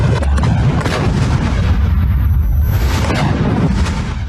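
RPG strikes on Israeli Merkava tanks, a dense, continuous roll of heavy booms and blasts with rumbling low end, loud and sustained throughout with no pauses.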